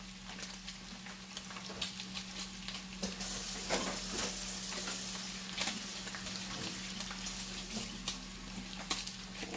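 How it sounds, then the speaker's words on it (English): Bacon frying crispy in a pan gives a steady close sizzle with crackling pops and occasional stirring, with a faint hum underneath. "Mix that bacon. I like the bacon nice and crispy."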